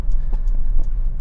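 A 2022 Mitsubishi Montero Sport Black Series automatic SUV moves along the road with a steady low engine and road rumble, heard from inside the cabin, with a few faint ticking clicks over it.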